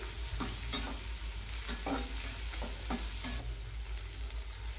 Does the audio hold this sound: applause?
no